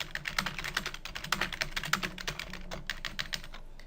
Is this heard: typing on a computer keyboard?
yes